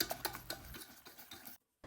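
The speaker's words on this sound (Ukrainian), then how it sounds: "Перемішуємо." Rapid clinking and scraping of a utensil stirring egg and butter in a bowl, quick and rhythmic, stopping abruptly near the end.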